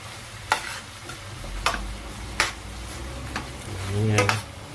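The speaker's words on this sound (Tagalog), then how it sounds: "Haluin lang natin ito." Mung beans with shrimp and pechay being stirred in a pan: a spoon scrapes the pan in periodic strokes over a constant low sizzle, close and clear.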